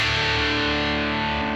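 Guitar played through a Boss DS-1 distortion pedal with a scooped tone, a sustained distorted chord ringing loud and steady on its own.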